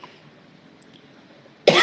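A single sharp, loud cough bursts out near the end after a quiet stretch of faint room noise, close to the microphone.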